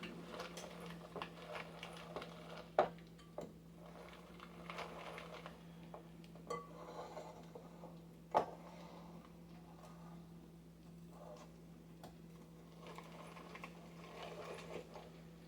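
Old hand-cranked beaters churn cookie dough in a bowl with a soft, steady mechanical ticking and rattling, and occasional sharper knocks as the bowl shifts.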